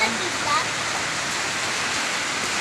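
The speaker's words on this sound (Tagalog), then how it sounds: "May bagyo. May ulan." Steady, dense rush of heavy typhoon rain in Mindoro, Philippines, pouring down without pause, a broad hissing roar close by.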